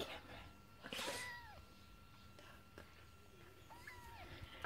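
A kitten gives two faint, thin meows with a short gap between them, heard close up against quiet room noise with light bumps.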